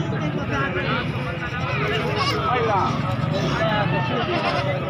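Goats at a livestock market in Khairpur bleating amid a busy crowd, with voices talking and market hubbub running under the calls throughout.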